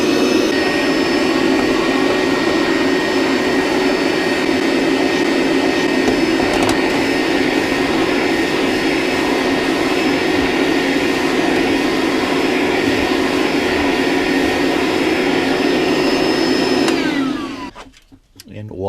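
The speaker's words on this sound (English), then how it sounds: "All I do is I take our DeWalt vacuum, use this attachment here, turn it on, and get the cleaning going." A DeWalt vacuum runs steadily at close range while cleaning an RV roof vent screen, a loud continuous whine and roar that holds evenly before cutting off near the end.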